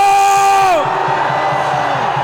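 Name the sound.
rally crowd shouting and cheering on command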